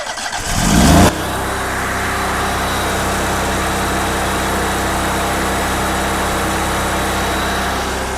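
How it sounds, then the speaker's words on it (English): The engine of an American Jetter 58 dual-pump hot trailer jetter cranks and catches after about a second, then settles into a loud, steady running drone close by. "So I'm going to start the engine."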